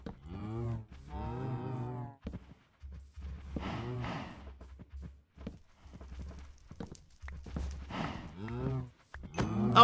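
Minecraft cows mooing in-game: several low, drawn-out bovine moos come one after another, loud and close, with soft blocky footstep thuds between them and no speech.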